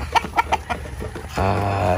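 Chickens cluck in a quick series of short, close calls, followed by a sustained lower squawk or crow at the end.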